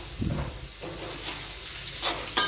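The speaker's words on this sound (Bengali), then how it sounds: "পেঁয়াজ আর রসুন একসাথে ভালো করে ভাজা করবো। দিয়ে দেবো একটু কারি পাতা" Garlic, onion and curry leaves frying in hot oil give a steady close sizzle and hiss, with brief crackling bursts near the start and end and no voices.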